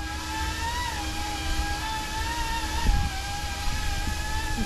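Small F09-S Coastguard model helicopter hovering in a backyard, giving a steady, whining rotor and motor drone with a slightly wavering pitch. It stays at a constant level throughout, with one soft bump near the middle.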